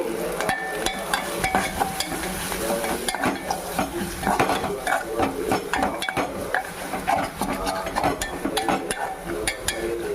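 Cashews fry in hot oil in a pot for chicken biryani, with a steady sizzle broken by frequent clinks and scrapes of stirring throughout.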